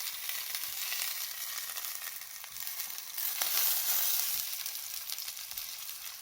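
A salmon fillet frying in a pan over medium heat gives a loud, continuous, dense hiss that swells briefly partway through, with no voices.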